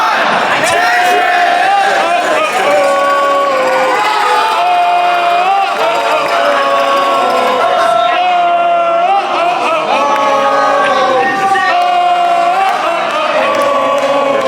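A loud crowd roaring and whooping at a classic Tetris tournament semi-final at a gaming expo, a dense sustained din of cheering voices with shouts rising and falling throughout.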